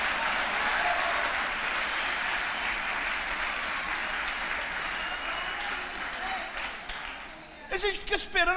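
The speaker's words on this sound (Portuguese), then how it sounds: "Dá uma salva de palmas então" A church congregation at a worship conference applauds in a steady wash of clapping that fades slightly, then voices break in near the end.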